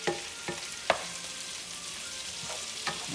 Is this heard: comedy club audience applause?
no